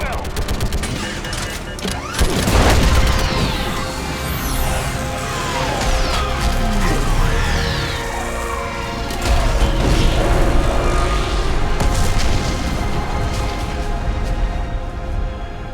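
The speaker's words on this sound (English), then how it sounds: "I need an orbital strike." Orbital strike explosions and heavy gunfire from Mass Effect 3 crash in a dense, continuous barrage, with a big boom near the start and sustained rattling fire throughout, mixed with battle noise and occasional voices.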